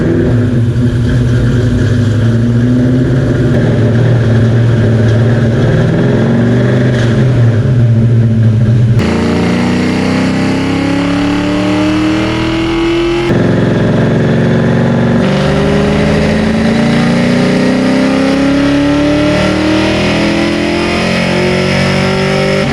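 A 393 stroker V8 in a street car revs hard on a dyno, loud and close, with rising engine pulls broken by brief cuts between runs.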